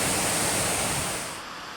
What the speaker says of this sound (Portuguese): Ó a cascata aqui, caindo aqui, o outro ramal aqui.